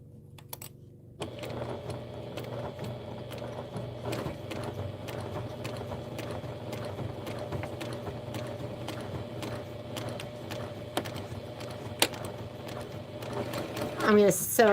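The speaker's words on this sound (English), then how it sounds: "I'm going to sew a couple stitches off and I'm going to do the next one." A sewing machine stitches steadily while assembling an OESD Midnight Delivery embroidery project, giving a continuous close mechanical whir with rhythmic needle ticking and a voice occasionally underneath.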